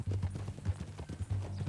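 Horse hooves clip-clop steadily in a western video game, a quick rhythmic trotting pattern close and moderately loud, with no speech on top.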